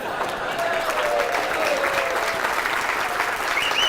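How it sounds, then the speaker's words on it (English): A luncheon audience breaks into dense, sustained applause, a loud wash of many hands clapping, with a voice faintly audible underneath. "Somebody clap for these folks"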